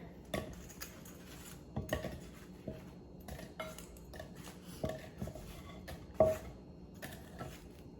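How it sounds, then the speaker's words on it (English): Plantains going into a pan with a little olive oil and salt, heard as scattered clinks, scrapes and taps of utensils against cookware at irregular intervals, fairly close, with no talking. "So we're gonna put the plantains in there."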